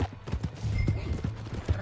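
Horse hooves pounding in a quick galloping rhythm in Red Dead Redemption 2, close and fairly loud, with a brief whinny-like sound mixed in and faint voices underneath.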